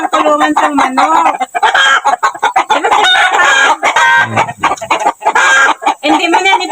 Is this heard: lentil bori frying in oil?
no